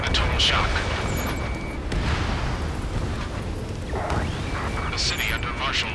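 Gunfire and explosions in the Ace Combat 7 video game, set in a city under martial law, crack and boom in scattered bursts over a dense rumbling background, with brief tonal alert beeps and voices talking in between.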